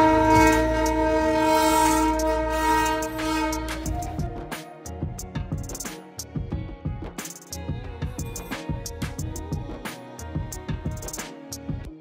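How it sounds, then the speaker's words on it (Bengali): A Darjeeling Himalayan toy train passing nearby: a loud, sustained horn blast opens, then the steady rhythmic clatter of wheels over rail joints continues close by. "দেখা পেয়ে গেলাম আরো একটি টয় ট্রেনের"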